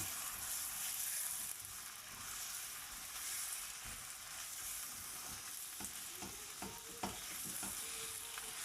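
Ingredients stir-fried in a wok with no added seasoning give a soft, steady sizzle, with scraping and tossing clatters of the utensil near the end.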